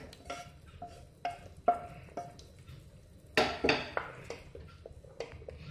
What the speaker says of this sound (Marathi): दलिया घातल्यानंतर थोडंसं हलवून घ्यायचं